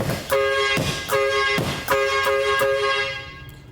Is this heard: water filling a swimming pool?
no